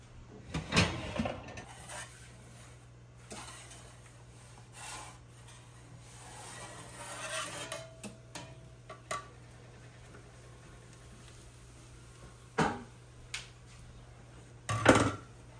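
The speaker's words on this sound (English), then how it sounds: "Go ahead and put that back in the oven" Garlic cheese breadsticks on a baking stone go back into an oven, heard as a few scattered scrapes, rubs and clunks of the stone and oven rack in a quiet kitchen, with a sharper knock near the end.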